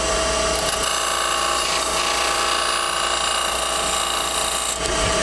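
A skew chisel cuts a bead on a wood lathe, giving a steady, loud, even whir and scraping hiss that runs unbroken throughout.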